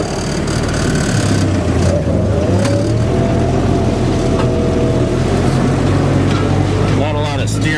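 A Willys Jeep engine in 4 low drones steadily while pulling a farm disc, a loud continuous low rumble with clattering implement noise and a faint rising whine near the end.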